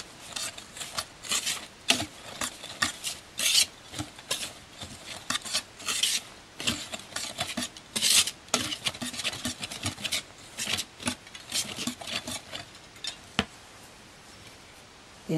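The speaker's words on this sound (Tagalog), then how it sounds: "I-mix lang natin mabuti." Dry pandan kutsinta mix of flour, cornstarch and sugar stirred briskly in a bowl, making rapid, rhythmic scraping and rasping strokes that come close and fairly loud in repeated bursts.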